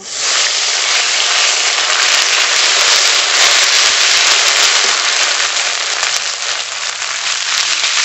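Ginger paste drops into hot oil seasoned with bay leaf and panch phoron for khichuri, giving a loud, dense, continuous sizzle and crackle that never lets up.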